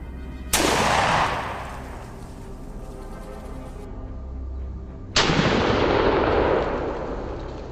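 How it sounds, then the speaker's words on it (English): Two sharp rifle shots ring out while hunting wild hogs in a forest, each a loud crack followed by a long rolling echo, about four and a half seconds apart. "Steady on the bead, I squeeze the trigger. Quick, clean, decisive."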